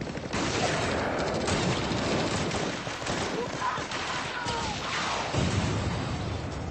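Dense, continuous gunfire from a war film battle between Russian and Georgian soldiers, with a sniper firing among bursts of rifle and machine-gun fire that stay loud and near throughout.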